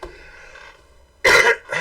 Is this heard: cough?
yes